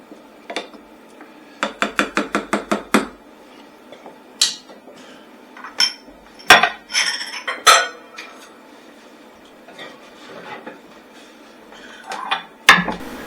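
Metal utensil clinks and scrapes in a pot while cranberry sauce ingredients, including brown sugar and vanilla extract, are stirred together, with a rapid burst of taps early on and scattered louder knocks after, close and fairly loud without talk.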